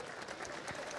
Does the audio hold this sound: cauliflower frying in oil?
no